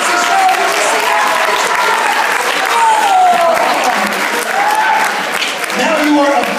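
Comedy show audience at a Penn State showcase applauds loudly and continuously, with cheering tones and a host's voice speaking over the clapping.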